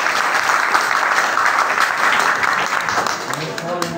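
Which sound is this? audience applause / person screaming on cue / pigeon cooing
audience applause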